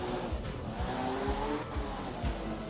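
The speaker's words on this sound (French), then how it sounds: "Bon, je freine un petit peu, je suis prudent." Rally car braking and tires skidding in the video game Art of Rally, a loud steady engine drone with repeated low thumps and scrubbing tire noise throughout.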